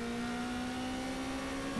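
Formula race car engine in rFactor 2 holding a steady high harmonic whine that begins to climb at the very end as the throttle opens, loud and continuous with no talk over it.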